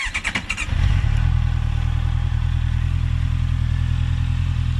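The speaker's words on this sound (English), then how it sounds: "The starter motor is louder than the actual engine." A Honda CBR 650F motorcycle: the starter motor whirs in brief pulses for under a second, then the engine catches and settles into a low, steady, fairly quiet idle heard up close.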